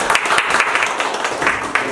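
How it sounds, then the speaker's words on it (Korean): Meeting attendees at an ecomuseum project general meeting applaud to approve a new chair, with a short burst of moderately loud clapping and a few sharper individual claps. "박수로 한번."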